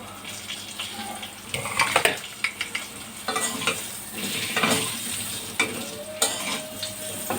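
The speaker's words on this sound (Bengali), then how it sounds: "এবারে কেটে রাখা আলুগুলি এই তেলে ভেজে নেব।" Cut potatoes fry in turmeric-tinged oil for a thin snakehead fish curry, with a soft ongoing sizzle, intermittent stirring scrapes and clatter, and a faint watery trickle in the background.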